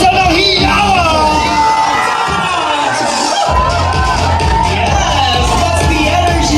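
A lively birthday-party crowd cheers loudly, with shouting, whoops and children's yells blending into a dense, sustained roar that holds steady from start to finish.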